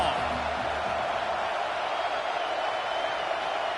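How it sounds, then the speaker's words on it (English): A home crowd roars without letup at a UVA vs Clemson college football game in College Football 26, a dense, steady wash of cheering that fills the clip. "how nice is it to have the home crowd going absolutely bananas?"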